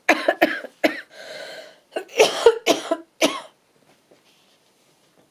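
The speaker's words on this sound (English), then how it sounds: "I can't seem to stop coughing now." A person coughs repeatedly in short, harsh bursts, several in a row with a brief pause between clusters, close to the microphone, then falls quiet.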